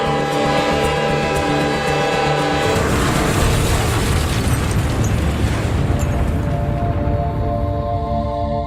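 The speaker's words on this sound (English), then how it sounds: "there was a massive train explosion in northern North Korea." A massive train explosion in a remote northern North Korean town erupts into a loud, sustained roaring rumble that swells over an underlying bed of tonal music and keeps rolling to the end.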